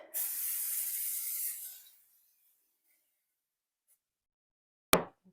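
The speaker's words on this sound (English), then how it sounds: "All right, I'm going to spray this again." A short hissing burst of cooking oil spray, about two seconds, close by, followed by quiet and a single sharp knock.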